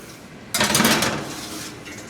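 A tray of corn ribs slides into an oven with a single close metallic clatter and scrape, then a soft fading rustle into quiet.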